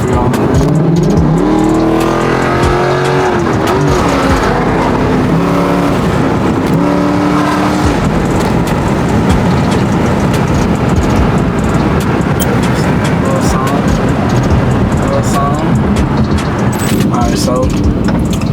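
An SRT-swapped Dodge Charger accelerates hard on the road, its engine droning loud and steady from inside the car with rising tones through the gears, alongside constant road and wind noise and some talk.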